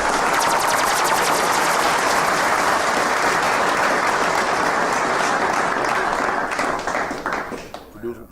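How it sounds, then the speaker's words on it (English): A studio audience gives a guest a loud, dense round of applause on a podcast, with sustained clapping and cheering close by that tapers off over the final seconds. "what a round of applause"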